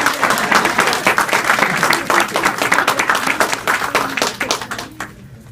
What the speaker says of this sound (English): it's worth a second round of applause, Miss Blue Ellis and guests.